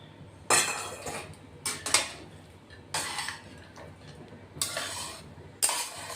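Fried peanuts being stirred into kanda poha in a pan, with several separate bursts of a spoon clattering and scraping against metal, quiet between strokes.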